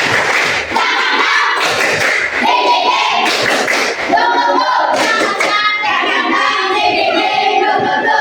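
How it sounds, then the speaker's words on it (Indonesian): A fifth-grade class of children claps together in a classroom, loud rhythmic patterned bursts of hand claps with brief pauses between sequences. "Tepuk semangat."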